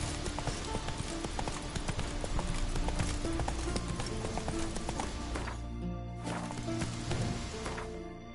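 Roach, the horse in The Witcher 3, gallops with rapid rhythmic clip-clop hoofbeats over game ambience that stay loud and continuous before briefly thinning near the end.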